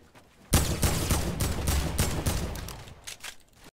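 Rapid bursts of gunfire from a Fortnite match, a dense volley starting abruptly and rattling loud and close for about three seconds before tapering into a few scattered shots.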